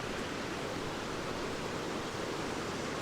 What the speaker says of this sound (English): Hopefully you can hear me because I'm right by these falls.